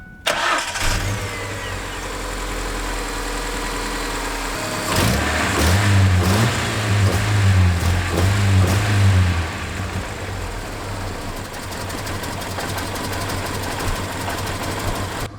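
A Ford Ranger 2.5-liter four-cylinder engine cranks and catches roughly, as though flooded, then settles into a loud, steady idle nearby with a shaky, uneven rhythm.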